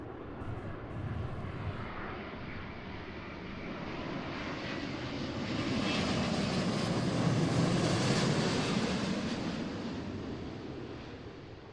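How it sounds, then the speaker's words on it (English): A Cathay Pacific Airbus A350-900 from Hong Kong lands at Seattle, its jet engines a loud, broad roar that swells as it passes close and then slowly fades. "All the way from Hong Kong is an A350-900 Cathay Pacific."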